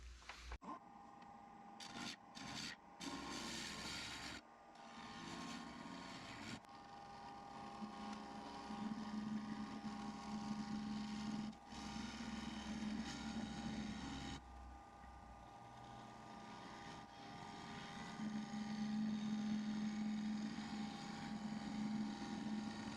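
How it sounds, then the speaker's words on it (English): A Forstner bit hollows out a resin piece, a low steady drilling drone with a humming motor tone, broken by several short starts and stops early on, fairly faint and without speech. "then I'm going to use a Forstner bit to start the hollowing of this."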